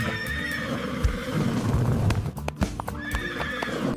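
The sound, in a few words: horse neighing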